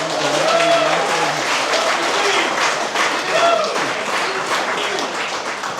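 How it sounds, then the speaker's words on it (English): Wedding guests applaud at a reception in a continuous, fairly loud wash of clapping, with faint voices and cheers mixed in throughout. "one more big round of applause."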